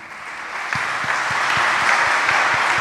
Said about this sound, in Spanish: Ahora los ministros dan la cara a la comunidad para que ellos los conozcan y los reciban con un aplauso